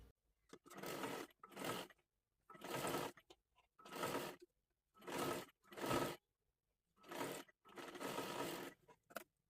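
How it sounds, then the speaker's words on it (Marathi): A sewing machine runs a double line of stitching along a sleeve seam on a kurti top, in about eight short, even bursts separated by brief pauses, close by and fairly quiet. "आता ह्याच्यावरती परत एकदा आपल्याला डबल शिलाई मारून घ्यायची आहे"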